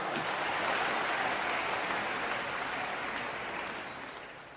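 Audience clapping at a religious discourse in Hindi, a dense, steady wash of many hands that holds loud for several seconds and then gradually fades, with no voices over it.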